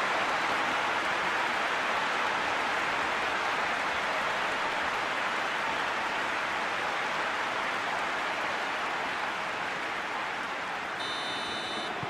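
A stadium crowd in a Real Madrid vs FC Barcelona football video game roars and applauds after a goal, a loud, dense, steady wash of cheering and clapping that fills the whole stretch without a break.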